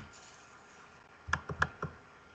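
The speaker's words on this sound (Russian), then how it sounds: "Два раза на него кликаем." A computer mouse clicks twice in quick succession, followed by a couple more soft clicks, close and crisp against a quiet room background.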